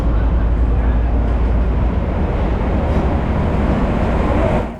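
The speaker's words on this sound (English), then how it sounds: "Our train pulls in around 15 minutes before departure, hauled by this General Electric ES30 ACI diesel electric locomotive" A General Electric ES30ACi diesel-electric locomotive rumbles loudly and steadily up close as it pulls a train into an Egyptian station, a deep continuous engine drone filling the whole stretch before easing off at the very end.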